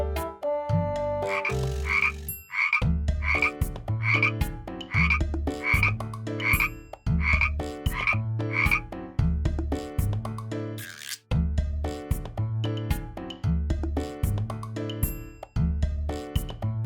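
Frogs croak in a steady, rhythmic series of sharp calls, repeating over and over with brief pauses, fairly close and loud.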